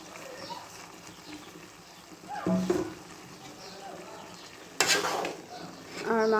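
Pieces of meat are stirred into bhuna khichuri of simmering rice and lentils in a pot, producing scraping spoon strokes and bursts of sizzling at close range, with a voice talking at points.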